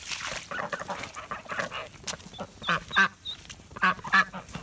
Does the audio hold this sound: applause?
no